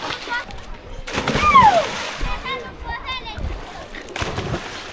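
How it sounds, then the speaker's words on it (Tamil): Children swimming and splashing in a river in Tajikistan's Pamir region, with bursts of water splashing and sloshing, shrill children's voices calling out, and steady outdoor noise throughout. "சூப்பராக நீச்சல் அடிக்கிறாங்க பசங்க."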